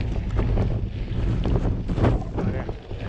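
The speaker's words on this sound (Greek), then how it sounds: "Αέρας." Gusty wind buffets the microphone in low, uneven rumbles, rising and falling in strength throughout.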